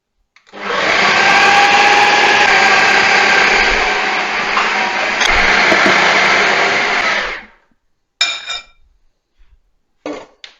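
An electric mixer whirs loudly and steadily for about seven seconds, blending curry puff pastry dough with cornflour, then stops, followed by a few brief bursts of mixing and light clinks.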